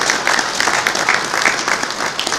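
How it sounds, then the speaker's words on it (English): A conference audience applauds the event's co-chairs with steady, dense clapping for a few seconds, filling the hall evenly with no voices standing out. "Give them a round of applause, the co-chairs of the conference."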